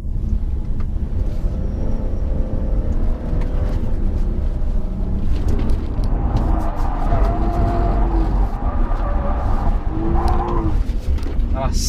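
BMW 540i M Sport accelerating hard in first gear in manual mode, a loud, steady engine roar that rises in pitch throughout, close and continuous.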